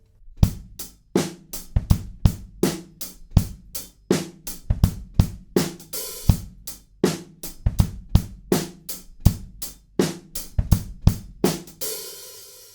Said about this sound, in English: the hi-hats drop out on beat 2 in place of the snare drum